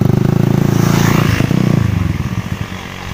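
Honda Mega Pro motorcycle engine revving loudly up close, a strong pulsing roar that holds steady before dropping back toward a lumpy idle.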